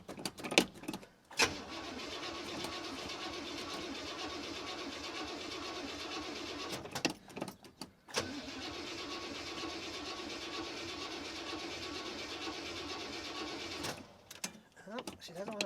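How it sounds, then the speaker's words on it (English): A car engine cranks repeatedly after sitting in the cold without catching: long stretches of steady starter whirring broken by brief pauses, fairly close. "Let's see if we can get it to fire up."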